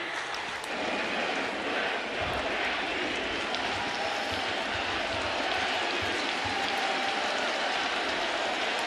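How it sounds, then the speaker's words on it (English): A baseball stadium crowd during a Detroit Tigers versus New York Yankees game keeps up a steady wash of cheering and applause at a distance, under quiet commentary. "Crowd getting into it."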